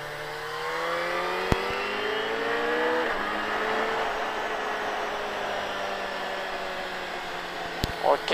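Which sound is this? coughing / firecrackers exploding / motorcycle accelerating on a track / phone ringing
motorcycle accelerating on a track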